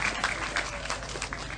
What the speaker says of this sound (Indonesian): tepuk tangan untuk Deren.